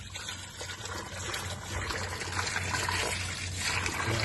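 Tap water running steadily into a container to fill a bath, a continuous trickling pour that grows slightly fuller and louder over the few seconds, close by with no talking.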